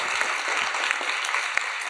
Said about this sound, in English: can we get a big round of applause for everyone that just shared?